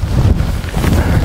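Strong wind from Storm Babet gusts across open Dartmoor moorland, a loud, continuous low rumble buffeting the microphone with no pause and no voices.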